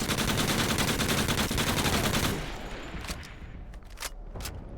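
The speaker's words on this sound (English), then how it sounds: "Okay guys, so this is the Scar Mod 2." Scar Mod 2 rifle fire in the video game Call of Duty: Future Warfare: dense, rapid automatic shots for about two seconds, then the burst stops and a few sharp single pops and clicks follow.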